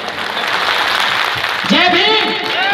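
Audience applause at a singer's performance event, steady dense clapping from a crowd throughout, with whistles or cheers rising near the end.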